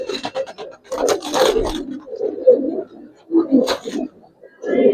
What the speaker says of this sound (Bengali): বিগ সাইজের লম্বা গলার একটা কবুতর।